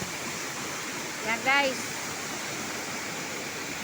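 Rushing water at Kawali Falls, a steady broadband roar of the cascade filling the whole scene, with a brief voice cutting in near the middle.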